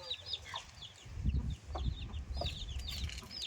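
Hens and young chicks clucking and peeping near a grandmother's village house, soft chirps scattered over low rustling and handling noise, with brief bursts of louder clucking.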